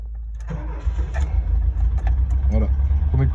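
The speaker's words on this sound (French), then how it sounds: "Premier coup de clé, le moteur était froid." A cold 1978 VW Combi T2b Westfalia engine cranks and catches on the first turn of the key, settling into a rough, loud idle with the gearbox in neutral, while voices speak over it.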